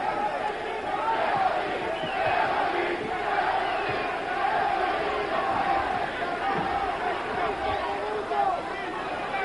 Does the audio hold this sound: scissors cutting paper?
no